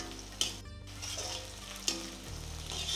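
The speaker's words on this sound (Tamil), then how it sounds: "இப்போ எல்லாம் நல்லா சேர்ந்து அப்புறம் வதங்குது" Onions, garlic and slit green chillies sautéing in a pan for Chettinad fenugreek kuzhambu, a steady close sizzle with a couple of sharp stirring knocks and no talking.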